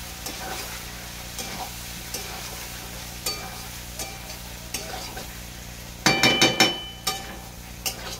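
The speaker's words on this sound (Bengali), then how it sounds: "আবার এইভাবে মশলাটাকে কষে নেব" Ground spice masala with coriander powder and pepper frying in a pan for a vegetarian cabbage dish, a steady sizzle punctuated by spoon scrapes and a burst of sharp metallic clinks near the end.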